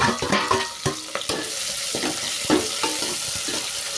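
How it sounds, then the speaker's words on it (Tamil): Chopped onion frying in hot oil for mint pulao, a bright continuous sizzle broken by sharp spoon scrapes and clanks against the pan, close and fairly loud with no talking. "ஆனியன் நல்லா ஃப்ரை ஆகட்டும் ஃப்ரெண்ட்ஸ்."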